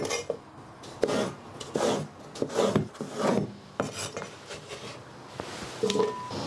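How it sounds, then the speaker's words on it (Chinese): A knife cuts washed zucchini quarters, cored of their seeds, into long strips on a board, giving a series of close, crisp slicing strokes and soft taps at an uneven rhythm with no talking. "再给它切成长条。"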